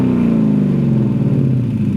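A 2016 Mustang GT with mufflers deleted gives a loud, throaty unmuffled exhaust rumble close by, its revving pitch sliding gradually lower as it winds down.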